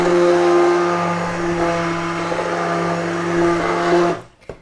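A blender whirs steadily at high speed through Austrian-style pumpkin soup, a loud, even motor drone with a strong steady hum that runs unbroken for about four seconds and then cuts off abruptly.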